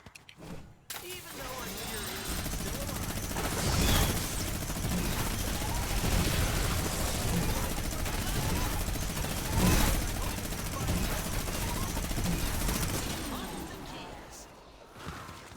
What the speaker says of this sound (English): We can just mini gun them in this.